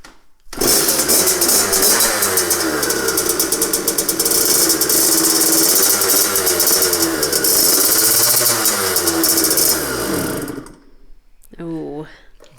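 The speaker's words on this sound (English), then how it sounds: "Maybe I'll rev it up a little bit." A motorcycle engine revs loudly and close by, holding a steady, rattling roar for about ten seconds before cutting off abruptly, with a brief voice afterward.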